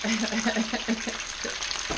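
French fries sizzle steadily in fresh oil for fish and chips, a dense, close crackling hiss with a few brief low bubbling pulses and no talking.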